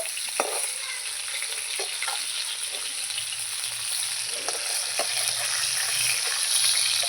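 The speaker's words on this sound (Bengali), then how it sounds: "এই মাছগুলো আমার ভাজা হয়ে গেছে তুলে নেব" Fish frying in hot oil in a wok, heard as a continuous close sizzle with occasional spatula scrapes and clinks as the pieces are turned and lifted.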